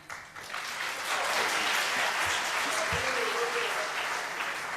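A debate audience breaks into applause, a dense wash of clapping that swells within the first second and holds steady and loud until the end.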